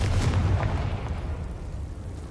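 Confringo blasting spell explosion in Hogwarts Legacy, a booming burst that fades into a low rumbling decay, heard alone.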